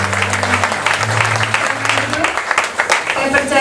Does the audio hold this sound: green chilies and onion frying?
no